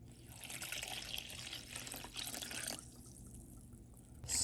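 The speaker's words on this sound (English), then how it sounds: "Then I'm going to add 2 cups of water." Two cups of water are poured into a mixing bowl of sugar-free, fat-free instant vanilla pudding mix. It makes a steady, close splashing rush that lasts several seconds and then tapers off near the end.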